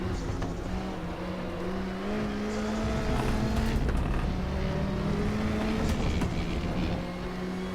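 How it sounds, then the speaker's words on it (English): A Volvo 240 Turbo race car in the RaceRoom racing game at Norisring, its turbo engine blipping loudly on a downshift to second gear without braking, with steady engine drone and rising revs throughout. "I shifted down to second gear and blipped without braking"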